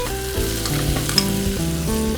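Browned onions and freshly added chopped tomatoes fry in a pan for a Punjabi dish, giving a loud, continuous sizzle under a steady hum, with one brief bright crackle partway through.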